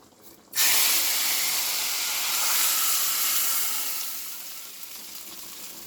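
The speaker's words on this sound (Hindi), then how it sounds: "तब हमारा तड़का रेडी है। इसको हम सब्जी में डाल देंगे।" Ghee tempering of cumin, red chili and a pinch of hing poured into mixed vegetable curry, bursting into a loud, steady sizzle and hiss that slowly fades over several seconds.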